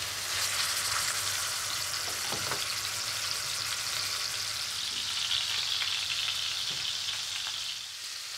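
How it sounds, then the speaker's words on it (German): Beef fillet from Highland cattle sears in a very hot pan of clarified butter, a steady loud sizzle and crackle running the whole time with no voices. "Und das werde ich jetzt dann in der Pfanne richtig heiß anbraten. Mit Butterschmalz, das wird am heißesten"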